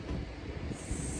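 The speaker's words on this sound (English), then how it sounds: "Got the train in the background behind this tree" A distant train passes behind trees in downtown Blue Ridge, a steady low rumble blended with breezy wind noise on the microphone, with no talking.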